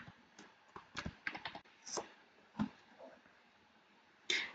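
Quiet, close computer keyboard typing while a company name is entered, with irregular clusters of light key clicks followed by a few isolated taps and a louder final keystroke.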